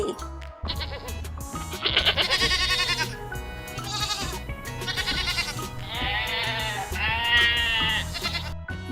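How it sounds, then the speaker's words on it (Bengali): Several goat kids bleat in quick, overlapping bursts, their wavering cries rising and falling close by over a steady rustle, with no talking. "ছয় ছাগল ছানা লাফিয়ে চলে"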